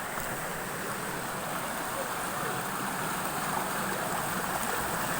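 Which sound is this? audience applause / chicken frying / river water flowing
river water flowing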